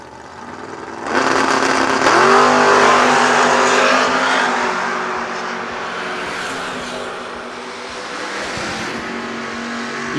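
Drag racing cars, including a Camaro out of Cincinnati, launching down the strip: a sudden loud engine roar rises and holds, then fades as the cars pull away, with a second surge near the end.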